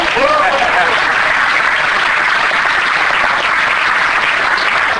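An audience at a horror film reunion panel at a monster convention applauds loudly and continuously, a close, dense roar of clapping with little variation.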